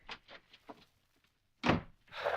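Door sound effect from a 1939 radio drama: a few light knocks and rattles, then a sharp solid thunk of the door with a hiss of air after it, close and brief with no talk.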